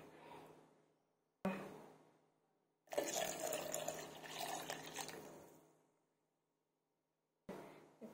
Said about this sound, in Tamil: இப்போ ஒரு கிளாஸ் பால் ஊற்றிக்கலாம்.